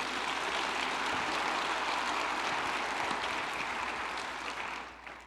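Church congregation at a communion service applauding together, a dense, even burst of clapping that fills the room and fades slightly at the end.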